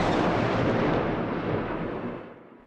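A missile strike on Kyiv sets off a heavy explosion, a loud broad rumbling blast that rolls on for a couple of seconds before fading out.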